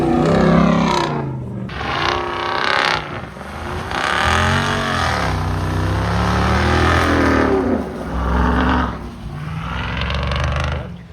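A Jeep Wrangler with the 392 V8 engine drives off-road in 4 low, its loud V8 rumbling and revving in repeated rising and falling surges, close and powerful, with no talk.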